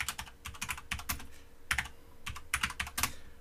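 Close, clattering keystrokes on a computer keyboard as code is typed, coming in quick irregular bursts with short pauses, clear and alone without talk.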